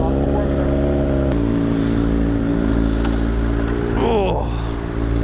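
Kawasaki Z900 motorcycle on a first ride, the engine running with a strong, steady harmonic drone, close and loud, shifting pitch partway through and rising in a quick rev near the end.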